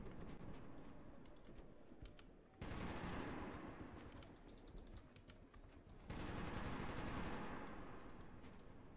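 Sustained machine-gun fire in Metro 2033 Redux, rapid dense bursts fired in long stretches separated by brief breaks, heard fairly quiet and without talking.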